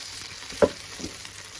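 Butter garlic chicken pieces frying in a pan over a low flame, a steady soft sizzle with one brief clunk partway through, no voices.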